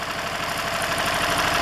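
A small outboard marine motor runs steadily after about ten minutes of warming up, giving a close, loud, even chugging with rapid regular pulses and a mechanical rattle. No voices are heard.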